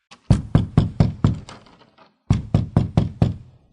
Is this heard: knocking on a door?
yes